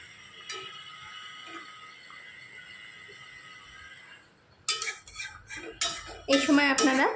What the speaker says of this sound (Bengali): এবার ভালোভাবে এর সাথে মিশিয়ে নেব।